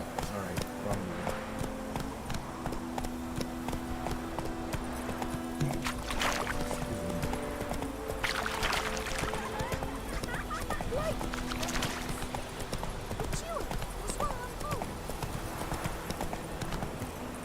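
Roach the horse in Witcher 3 clip-clops along in steady rhythmic hoofbeats, close and clear, over a busy layered game soundscape with musical tones and brief splashy bursts.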